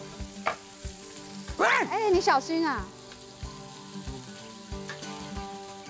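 Food pan-frying in a pan, a close, steady sizzle and crackle that runs throughout, with a voice briefly calling out over it midway.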